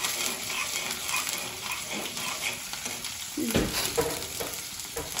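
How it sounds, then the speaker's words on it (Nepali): Steady sizzling of onions frying in a pan until reddish, with some stirring and scraping noises over a constant hiss; no one speaks. "प्याज झन् अलिकति रातो रातो हुन्जाल भुट्नुपर्छ यसरी"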